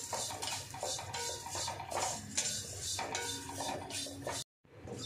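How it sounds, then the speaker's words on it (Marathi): Garlic and ginger are stirred and sautéed with roasted coconut in a hot kadhai. A close, steady scrape and clatter of a spoon against the pan runs throughout, with a brief dropout near the end. "त्यात मी लसूण टाकते आणि आलं टाकते हे थोडंसं मी परतून घेणार आहे"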